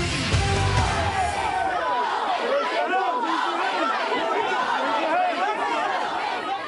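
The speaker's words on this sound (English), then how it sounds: "That was the crowd that greeted conservative writer Ben Shapiro as he was attempting to give a speech at the Los Angeles campus of California State University." A large crowd at the Los Angeles campus of California State University chatters and shouts at conservative writer Ben Shapiro's attempted speech, a dense, loud mass of overlapping voices with no pauses.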